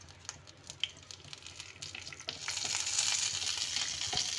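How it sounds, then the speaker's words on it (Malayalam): Whole cinnamon, cloves and cardamom sizzle in hot ghee. A close, steady frying hiss starts moderately and swells louder and brighter halfway through, with a few small pops and clinks. "ഇതിലേക്ക് ഞാൻ സ്പൈസസ് എല്ലാം ചേർത്ത് കൊടുക്കുകയാണ്."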